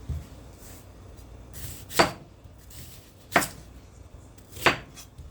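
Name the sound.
knife cutting ingredients into thin slices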